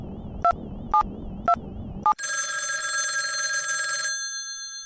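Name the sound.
telephone ringing after dialing in a video game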